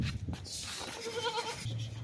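A male goat being shown for sale ahead of the 2024 Qurbani sacrifice gives a drawn-out bleat at close range, with a second shorter call near the end over faint background noise.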